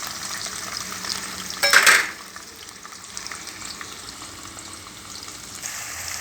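Chopped onions drop into hot oil already seasoned with tempering seeds in a home kitchen pot, giving a short burst of sizzling and stirring before fading to a quiet, low crackle.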